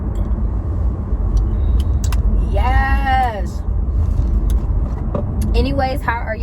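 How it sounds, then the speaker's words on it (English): A car speeds past outdoors on a road, a steady loud rumble of traffic running throughout while someone talks over it. "look at that car flying"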